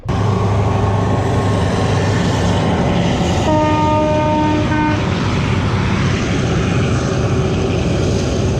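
A train rumbles past close by, steady and loud, with a horn-like tonal blast sounding midway before the rolling noise continues.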